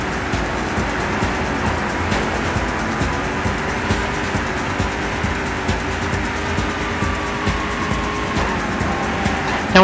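Racing car engines in the POD Gold video game, a continuous buzzing drone of synthesized motors at steady level with slight pitch shifts, no talking over it.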